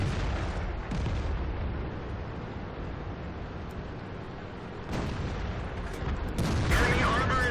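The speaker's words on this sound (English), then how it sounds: "So I did an artillery strike on somebody" Artillery strike in World of Tanks, fired during a Steel Hunt match with a Bat Chat tank: a continuous dense roar of gunfire and blasts with heavier bursts near the start, the middle and the end, loud and close throughout.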